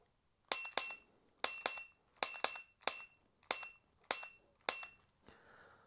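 Laser training pistol from an I-MTTS Arena kit being dry-fired at targets: ten crisp, metallic clicks arrive in pairs at a steady pace, close and clean against a quiet room.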